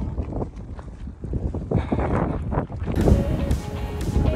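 Gusty wind buffets the microphone on a sunny mountain trail during the Dalat Ultra Trail race, a loud rumbling whoosh that swells and eases, with faint scuffs of movement.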